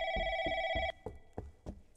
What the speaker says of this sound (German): Irgendwo ist ein Telefon.